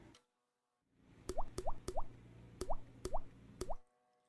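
Drops of sodium hydroxide solution fall into a test tube of salt water in a chemistry ion test, six small bright plops in a quick irregular series, close and quiet with no talk.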